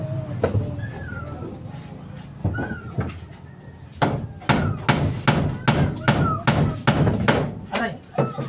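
A hammer pounds out steady, evenly spaced blows close by as a house is readied for an approaching typhoon, with people talking over the earlier part.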